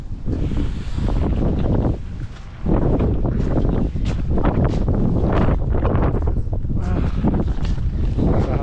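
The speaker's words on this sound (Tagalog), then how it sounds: "Lakas ng hangin." Strong wind buffets the microphone in a loud, continuous roar with gusty surges, drowning out everything else.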